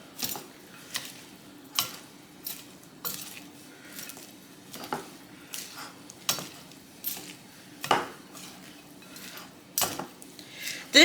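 Egg foo young mixture is mixed in a bowl, a rhythmic series of utensil clinks and scrapes against the bowl, about a dozen sharp strokes at close range, with no talking.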